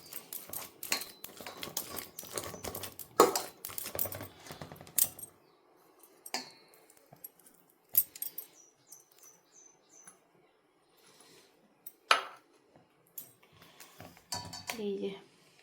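Boiled sweet potato is mashed in a glass with a utensil, making a quick run of close clicks and scrapes that thins into sparse taps, with a voice heard faintly now and then.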